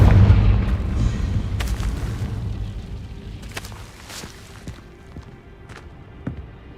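A Confringo blasting spell in a wizarding video game, a heavy boom at the start fading into a low rumble, followed by scattered sharp pops and cracks, fairly loud with no talk.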